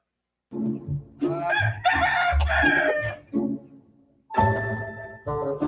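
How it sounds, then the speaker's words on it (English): A rare black Somali chicken crows nearby, loud and clear, with a long, wavering call followed by a second, shorter crow, with no talk over it. "This is a rare Somali chicken."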